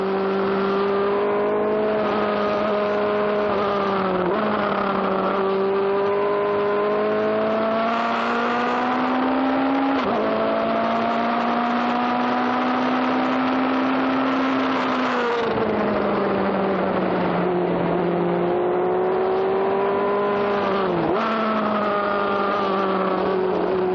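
A 2-liter sports racer race car laps Mid Ohio, its engine a loud, continuous in-car drone that climbs in pitch through each gear, drops sharply at shifts around every five seconds, and keeps pulling hard with no voices over it.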